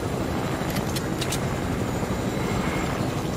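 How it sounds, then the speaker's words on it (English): A video game helicopter gives off a steady, loud rotor and engine drone with dense low rumble throughout, heard alone without talk and with a few brief high clicks partway through. "Bro, this is a perfectly brand new heli."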